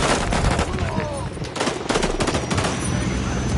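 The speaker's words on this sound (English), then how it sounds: "Taking effective fire!" Rapid bursts of automatic gunfire and scattered shots crackle in a Call of Duty: Modern Warfare III battle, loud and close, with brief lulls between volleys.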